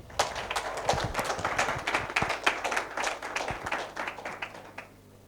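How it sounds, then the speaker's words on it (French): An audience claps together at an African schools and companies meeting in Abidjan, dense applause holding steady for about five seconds before tapering off at the end, with no talk over it. "Ça s'applaudit, ça."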